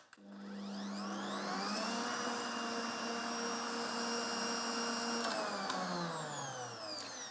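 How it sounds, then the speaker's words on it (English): An electric whisk beats egg whites and sugar into firm meringue with a steady, close, high motor whine that holds level and then drops in pitch near the end. No voices are heard over it. "now put it back onto whisk until it's good and firm"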